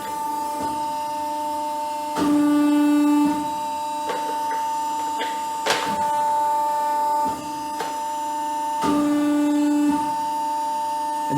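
A PPCM Series C hydraulic frame press runs through its cycle, giving a steady mechanical hum with sustained tones that shift in pitch, punctuated by a few sharp clunks and knocks as the stages change.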